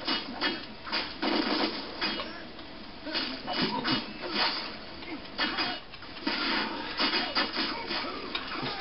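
A chainsaw-wielding enemy in the Devil May Cry video game grinds with a harsh, rasping buzz that runs loud and steady through the clip, mixed with busy combat clatter.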